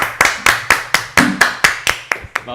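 About eleven distinct hand claps from a single person after a song, close and loud, in a steady rhythmic pattern slowing slightly near the end, with no talking.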